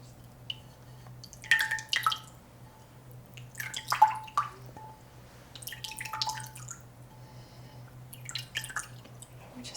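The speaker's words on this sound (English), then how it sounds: "And some water." Water drips and trickles from a small pot in a quiet room, with soft, close splashes arriving in irregular clusters over a low steady hum.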